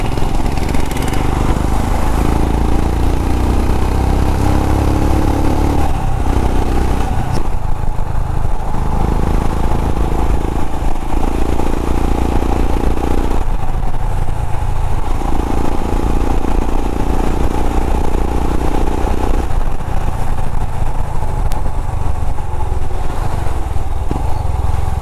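Royal Enfield Himalayan motorcycle engine running steadily on a new exhaust with the dB killer removed, a loud, continuous throaty idle with slight pulsing throughout and no voices.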